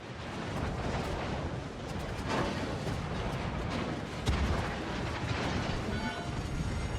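An enemy destroyer explodes in the naval video game World of Warships Legends, a dense rumbling blast with crackling debris and continuous booming battle noise throughout, loud and sustained.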